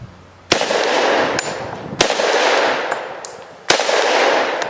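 A Thompson M1A1 short-barreled rifle fires at cinder blocks outdoors, with four loud, sharp shots spaced about a second apart, each trailed by a broad echoing decay.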